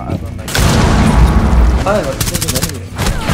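Rapid gunfire and a booming blast sound in a Rainbow Six Siege match as a trap is shot, loud and close, with players talking excitedly over the shots.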